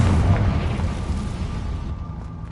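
A Confringo fire blast spell explodes in Hogwarts Legacy, a loud booming burst that rumbles heavily at first and then fades away over about two seconds.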